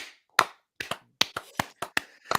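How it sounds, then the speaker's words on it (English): A handful of sharp, close hand claps spaced out irregularly over a couple of seconds, like a few people applauding on a podcast, with quiet gaps between each clap. "give a round of applause right now"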